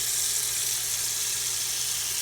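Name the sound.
washing sliced cabbage in water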